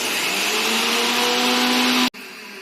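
Mixer grinder blending mango leaves into a paste, a loud steady motor whine with a high pitched hum running nonstop for about two seconds before cutting off abruptly, followed by a quieter residual whir.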